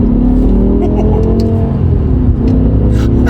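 A BMW M5 E60 fitted with a Sprint Booster V3 accelerates in second gear, its engine a loud, close, dense rumble and rising drone that fills the whole stretch, with a voice faintly audible beneath.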